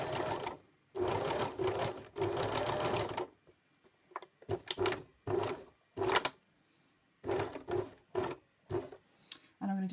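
A sewing machine stitching collar pieces for a flat Peter Pan collar, running in loud bursts up close: long continuous runs first, then short stop-start spurts with quiet pauses between.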